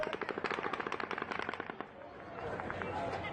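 Rapid automatic rifle fire during the Las Vegas shooting, a long distant burst of fast, even cracks that suddenly stops, then crowd noise and commotion.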